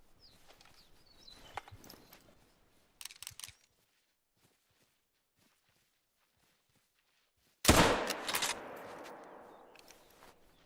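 In the hunting game Hunter: Call of the Wild, a single loud gunshot aimed at a red fox cracks out after quiet footsteps and rustling, then rolls away in a long fading echo.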